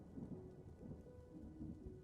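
Steady rain falls with low thunder rumbling underneath in Dwarf Fortress, a continuous, fairly quiet wash of rainfall.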